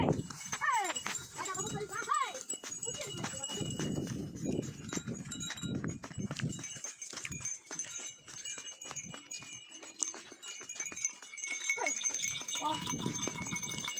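Cattle close by outdoors, low bellowing moos and scattered rustling and knocks among a cluttered background, with people talking intermittently throughout.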